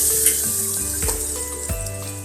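Spices being stirred into a sizzling pan for brown rice khichdi, a steady hiss of frying with a few soft clinks and scrapes of the spoon close by.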